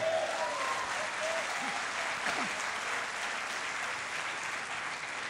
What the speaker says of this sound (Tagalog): Pumalakpak ng malakas sa Lord.